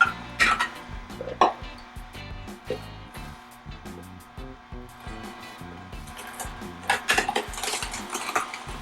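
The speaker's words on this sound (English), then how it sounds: "Get my bowls in place here." Bowls set down and shuffled into place beside two Omega juicers, an 8006 and a 900HDC, producing a run of close clunks and knocks, clearest at the start and near the end.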